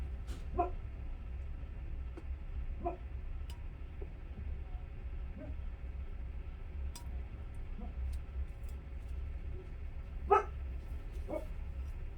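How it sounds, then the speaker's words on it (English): A dog barks in short, faint bursts at a distance, scattered over a low steady background hum. "Hear that dog? She seriously does this all day long."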